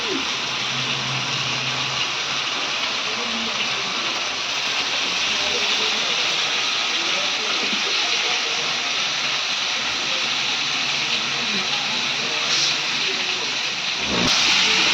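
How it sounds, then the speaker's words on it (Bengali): Water poured into a hot pan of pangas fish curry, giving a loud, continuous hiss that holds steady for the whole stretch before a brief clatter near the end, close up with no clear talking. "এবার পানি ঢেলে দিবে"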